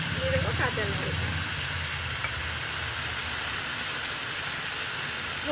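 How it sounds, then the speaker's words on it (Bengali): Taro leaves and prawns hit a hot pan, setting off a loud, dense, steady sizzling hiss that runs unbroken throughout, with a brief bit of voice early on. "এবার আমি কচু শাকটা দিয়ে দেবো, কচু শাকের মধ্যে চিংড়ি মাছটাও দিয়ে দেবো"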